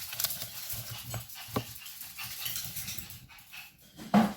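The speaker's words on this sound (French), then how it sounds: "Le chien est en crise." A dog pants in quick, uneven breaths and lets out whimpering whines, close by, with a louder yelp-like burst near the end; no talking.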